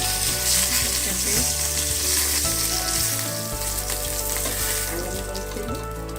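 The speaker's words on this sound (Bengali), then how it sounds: "তেলে যে মাছগুলো ভাজি দিই দেখতে পাচ্ছেন" Pieces of fish fry in hot oil in a pan, giving a loud, continuous close-up sizzle and crackle with faint stirring noises.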